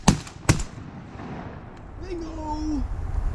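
Two loud close shotgun blasts ring out in quick succession during a waterfowl hunt, followed by hunters talking and faint duck calls.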